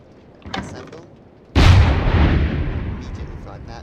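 A cannon from the Minecraft ClockWork Gearforged weaponry mod fires with a sudden loud boom that rumbles and decays over a couple of seconds, after a fainter click-like sound.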